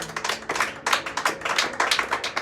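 A church congregation claps in worship, a rhythmic run of sharp, distinct hand claps in a steady beat, fairly close and moderately loud, with no speech over it.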